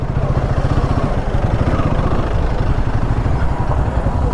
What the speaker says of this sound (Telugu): ఇదంతా ఫుల్ ట్రాఫిక్ జాము.